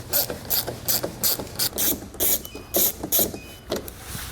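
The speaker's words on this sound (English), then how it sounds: "on each side we're going to have these 2 screws here, which we'll remove using a 7mm socket" A ratchet fitted with a 7mm socket backs out bumper fascia screws on a 2012 GMC Terrain, a close series of loud, regular clicking strokes, about ten in quick succession.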